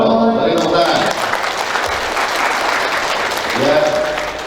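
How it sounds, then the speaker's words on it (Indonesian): Audience applause at an Islamic recitation session, a dense burst of clapping from a crowd that continues for several seconds, with a voice speaking at the start and again near the end. "Beri tepuk tangan."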